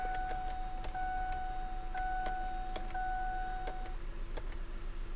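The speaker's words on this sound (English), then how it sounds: "it's just a switch was on, off, on, off, on, off, on" Ford Edge dome light switch clicks repeatedly on and off at a steady pace, about once a second, with chimes sounding alongside the clicks over a low engine hum.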